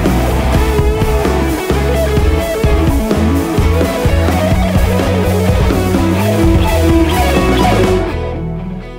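Rapid electric guitar sweep-picked lick from the climax of a guitar solo, dense cascading notes over full backing music, loud and continuous before cutting off near the end.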